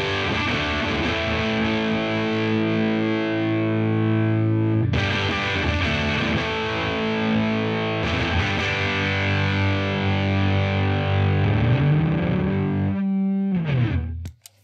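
An electric guitar runs through a Devi Ever BDSM distortion pedal on its Aenima setting, playing loud, saturated sustained chords with a few re-strikes, ending in a bending, wavering note and a brief scrape, with no voice.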